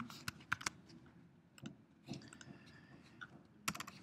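Keys clicking in short irregular bursts on a computer keyboard, fairly quiet with pauses between clusters of keystrokes.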